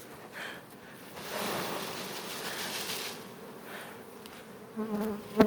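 Honey bees buzz steadily at a beehive, a continuous droning hum that swells slightly midway and stays fairly close, with a few louder buzzes near the end.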